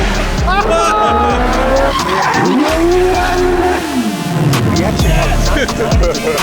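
A race car drifts through a corner with loud, sustained tire squeal sweeping in pitch over a roaring engine, all close and continuous while a voice talks excitedly over it.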